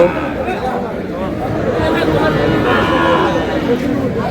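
Sahiwal bull calves at a busy cattle market in Dinajpur, with livestock sounds blending into a loud, steady crowd hubbub and nearby chatter throughout.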